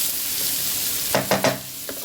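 Pasta and chicken with soy and chili sauce get stirred in a pan over a soft background sizzle, with three or four close scraping strokes near the end.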